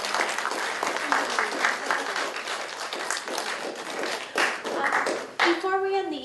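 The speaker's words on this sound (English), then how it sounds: "One more big round of applause for Karen." Sustained applause from an audience, dense steady clapping throughout, with a voice briefly speaking near the end.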